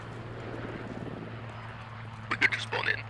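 Little Bird helicopters in the video game Squad whir as a steady low engine drone throughout, with a brief flurry of sharper rattling noise near the end.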